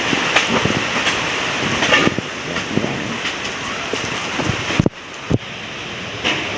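Steady, dense rain roars without pause during a typhoon, with gusty surges and a couple of brief dropouts; a heavy downpour in stormy wind.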